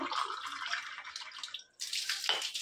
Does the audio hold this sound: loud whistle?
no